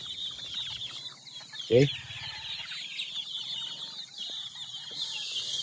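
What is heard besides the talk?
small chicks clucking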